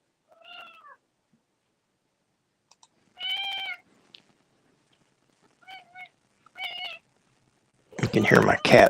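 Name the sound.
cat meowing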